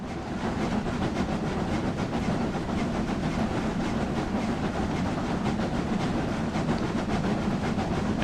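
A train runs in the railway game Train Sim Classic, giving a steady, dense rumble and rolling rail noise that stays even and unbroken throughout, with no talking.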